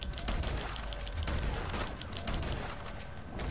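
Long-range gunfire rattles in Red Dead Online, a dense burst of distant overlapping shots over steady background noise, with a voice briefly audible.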